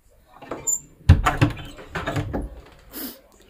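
A house door is handled and pushed shut, a few knocks and thuds at close range, with soft movement around it and a brief voice.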